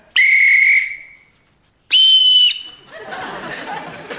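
A council-issue whistle is blown twice, loud and close: a shrill blast of just under a second, a pause, then a second shorter blast, followed by a soft rustling hiss.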